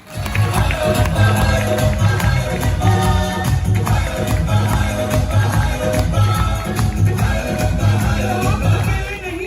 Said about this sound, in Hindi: तो सबसे पहले आप सभी के लिए बहुत जोरदार तालियां।